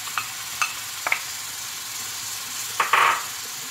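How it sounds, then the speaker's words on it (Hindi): A spice masala of ground yogurt and onion with garlic, ginger, red chilli, turmeric, coriander, cumin and salt fries in a pan for fish curry, giving a quiet sizzle with a few sharp stirring scrapes and a brief louder hiss near the end. "ये सब चीज़ें डाल के मसाले को हम अच्छी तरह से भून लेंगे।"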